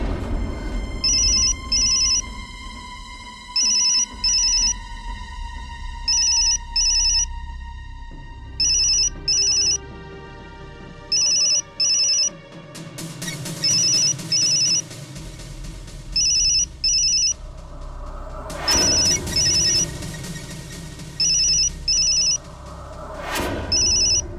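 A telephone rings repeatedly in regular paired electronic trills with short gaps, loud and close, over a low sustained musical background.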